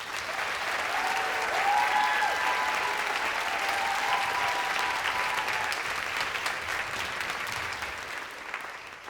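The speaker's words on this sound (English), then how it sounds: "please join me in a round of applause for this man." Loud, sustained applause from an audience at a press-freedom award evening, a dense wash of clapping that holds steady before slowly easing toward the end.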